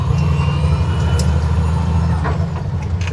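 Heavy hauling truck engine pulling steadily as it climbs up into sixth gear, a loud continuous low diesel drone with a brief hiss partway through, no talking.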